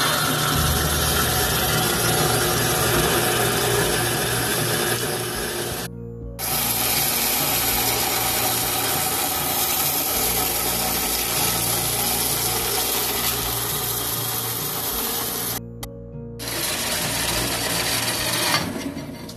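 A power saw cuts through an 8-inch by 3/16-inch steel plate for desk leg bases, a loud, continuous whining grind that drops out briefly twice before resuming, with no talking.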